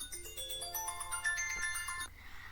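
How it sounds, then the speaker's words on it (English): A phone ringtone plays a bright, chiming melody of rising and falling electronic tones, fairly quiet and alone, cutting off abruptly near the end. "That's my phone ringing"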